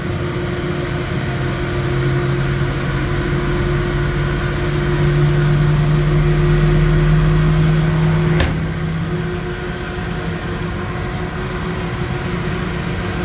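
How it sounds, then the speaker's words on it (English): A boiler's combustion blower motor hums steadily during pre-purge, its tone rising as it ramps up and then easing, over a constant loud mechanical drone with one sharp click near the end. "Combustion motor started, stage pre-purge. Right now my combustion motor ramping up."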